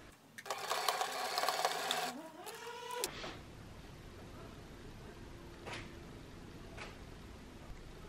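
A sewing machine stitches handbag pieces in a steady, loud mechanical run for about two seconds, slowing to a stop near three seconds, followed by quieter handling sounds and a couple of soft clicks.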